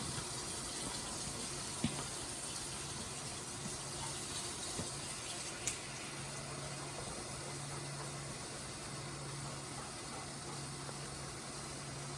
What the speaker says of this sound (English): And I'm gonna fill up